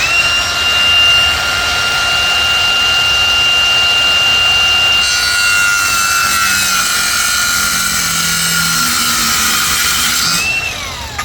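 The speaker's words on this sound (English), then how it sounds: "Get the grinder going. We're going to cut that out." An angle grinder cuts out rusted metal on a square-body truck, a loud sustained high whine that shifts pitch as the disc bites, then winds down near the end.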